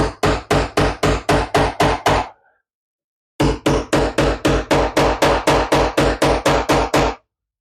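Wooden pins are whacked into a small woodworking piece with a scrap of wood in two rapid runs of about eight sharp knocks each, separated by a pause of roughly a second, loud and close.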